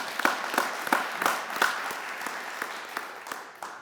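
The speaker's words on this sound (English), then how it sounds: "Let's give her another round of applause." Audience applause at a Cuyahoga County event on expanding high-speed, low-cost internet, honouring Congresswoman Shontel Brown: a steady moderate wash of clapping with scattered sharper claps, heard alone with no talk.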